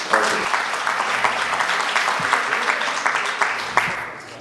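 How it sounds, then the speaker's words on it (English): A crowd at a Korean American Democratic association leadership installation ceremony claps for the incoming president, a loud, steady round of applause with a few sharper individual claps standing out throughout. "please welcome and give a round of applause to incoming President,"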